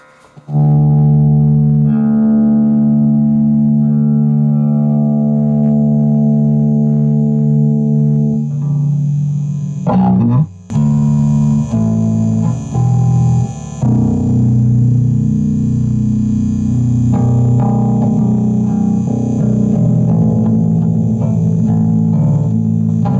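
Bass guitar played through a Peavey Minx 110 bass amp, sustained low notes ringing steadily for about eight seconds, then a brief gap and a run of varied plucked notes, loud and close with no talking.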